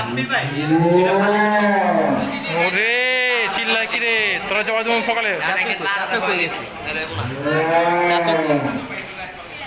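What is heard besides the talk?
cattle mooing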